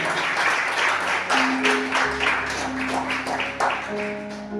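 Congregation applause during a church service, a full room clapping steadily at moderate volume while a low musical drone and sustained keyboard tones sound beneath it.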